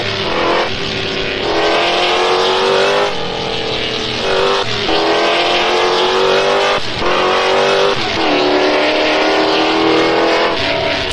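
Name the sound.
race car driving at Daytona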